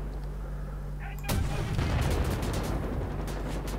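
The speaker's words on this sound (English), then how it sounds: "Time to get the rocket launcher up." A rocket launcher fires in Wolfenstein: The New Order, a single loud blast that bursts in and leaves a rumbling, crackling tail, with game ambience before and after.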